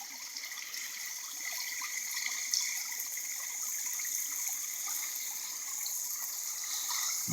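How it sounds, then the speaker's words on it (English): Water runs steadily out of an irrigation pipe beside a field, a soft continuous trickling and gushing flow heard alone at moderate distance. "That's a whole lot of water not going into the field,"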